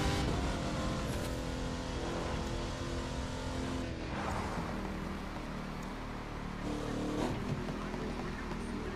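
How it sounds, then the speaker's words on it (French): A Shelby car driving in the racing game The Crew 2, its engine droning steadily and loudly throughout with slight rises and dips in pitch, as if cruising and accelerating, with game sound layered over it. "ça c'est un nouveau véhicule, c'est la Shelby. On va en faire un petit tour avec"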